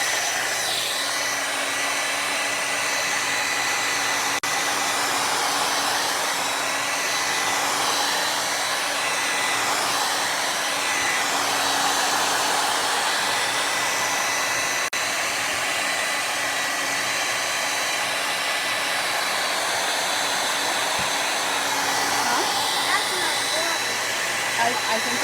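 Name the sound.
hair dryer drying chalk paste on a shirt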